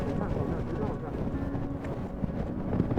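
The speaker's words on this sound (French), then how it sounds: "J'espère que vous m'entendez avec le vent là, c'est pas évident" Strong wind on Mount Fuji roars and buffets close by, a constant low rumble without a break.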